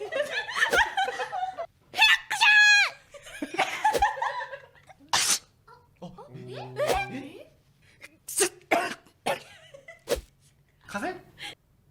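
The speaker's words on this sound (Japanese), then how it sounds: "その中に一人だけ小よりを鼻に突っ込んで本当にくしゃみをしている人がいるの" A sneeze set off by twisted paper poked into the nose, a sharp burst among several people laughing, chuckling and talking, with more breathy bursts scattered through the lively chatter.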